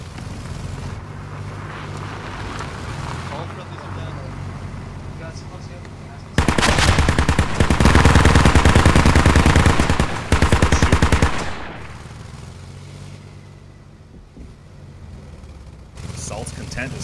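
Gunfire in the video game Squad during a competitive match, a sustained burst of rapid automatic fire bursting loud over a steady background rumble, with quieter distant shots before and after.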